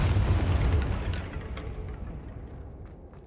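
Confringo fire spell blast in Hogwarts Legacy, a deep rumbling boom that swells at the start and slowly fades over a few seconds, with no talking over it.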